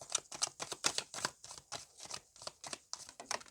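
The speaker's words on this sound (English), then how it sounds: "See, I have to shuffle this deck in two parts because it's just too large for my hands." A large tarot deck shuffled in two parts by hand, giving a run of quick riffling bursts in a steady rhythm, close and fairly quiet with no talking.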